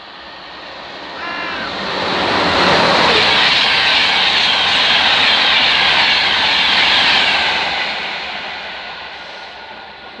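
British Rail Class 91 electric locomotive passing Hitchin on the East Coast Main Line with a Class 82 driving van on the rear, a loud rushing roar that swells, holds steady, then fades as it goes by.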